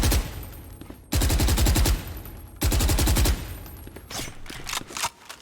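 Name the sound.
gunfire in the video game Valorant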